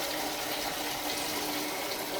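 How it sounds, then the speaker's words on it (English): Cold tap water pours into a homebrew fermenter for a Coopers IPA, a steady, even splashing gush that continues unbroken for the whole two seconds. "I'm trying to aerate it well as I'm pouring the water in."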